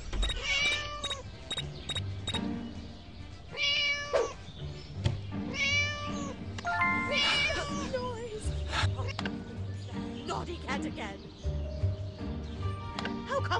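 A cartoonish cat in the mobile game Scary Teacher 3D lets out several loud, drawn-out meows and yowls in a row, mixed with game music and a voice talking in between.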